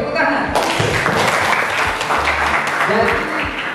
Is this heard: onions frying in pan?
no